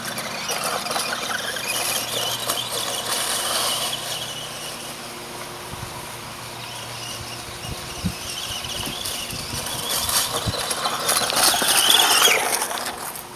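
A small ECX Ruckus 1/18 scale RC truck runs through grass outdoors, its faint electric motor whine and squeals rising and falling with rustling underneath, building louder near the end, with no talk.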